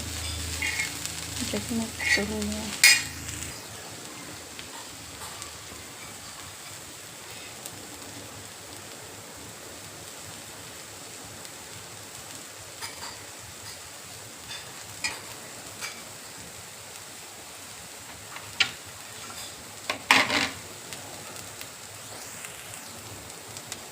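Bell pepper sautés on a flat griddle with red chilli powder and a garlic, onion and coconut masala, giving a soft, steady sizzle with clattering stirs near the start and again around the end.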